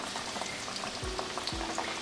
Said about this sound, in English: So I'll continue frying the rest of my chicken